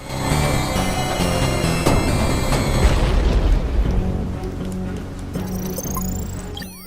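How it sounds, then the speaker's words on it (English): In the action game UnMetal, a platform collapses after missile explosions: a heavy, rumbling boom and crashing debris build to a loud peak, then fade into lingering rattles and clanks. "The platform collapsed after the ballistic abuse from all the missiles"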